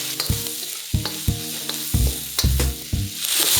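Chicken, shiitake mushrooms, onions, garlic and ginger stir-fry in a wok, with a steady close sizzle broken by several loud scraping, clattering tosses of the spatula in an uneven rhythm.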